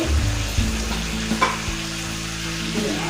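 Diced potatoes frying in oil in a pan, a close, steady sizzle with a few stirring scrapes and light clatters, no talking.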